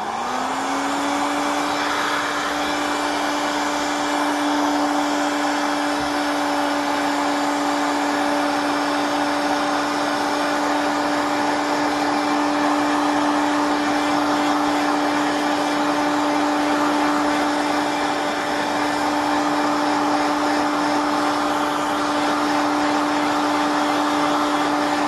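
A heat gun blows steadily on heat-shrink tubing over copper speaker cable, a loud, continuous whooshing drone with a constant tone that runs unbroken and alone throughout.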